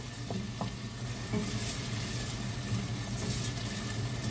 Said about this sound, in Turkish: Şimdi soğanlarımı kavurayım.